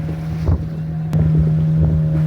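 A boat engine drones steadily on the sea during a dolphin-watching trip off Goa, a constant low hum with wind buffeting the microphone and water rushing alongside.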